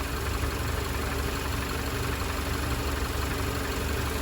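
A car engine idling after running for some time, a steady, loud, unchanging hum and rumble close by with no talking.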